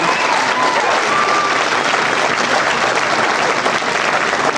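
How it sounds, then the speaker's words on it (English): A live audience at a post-game show event breaks into loud, sustained applause, dense clapping holding steady from start to finish with no gaps. "maybe give him a round of applause too"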